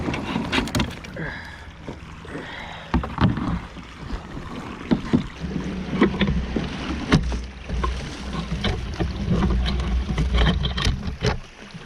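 A kayak scrapes and bumps its way over a beaver dam on a small farm waterway, with water splashing and hull knocks in irregular bursts, close to the microphone and mixed with wind noise.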